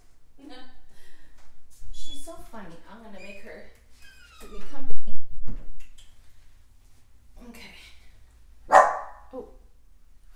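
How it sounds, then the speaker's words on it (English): A small female puppy barks and yips in a few short, high bursts indoors, near and clear between quiet gaps. A person speaks around the barks. "Let me grab my little puppy and bring her in here."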